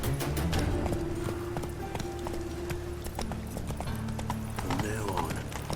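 Roach, a horse in The Witcher 3, gallops with rapid, close clip-clopping hooves that run throughout over game ambience. A short whinny or voice cuts in near the end.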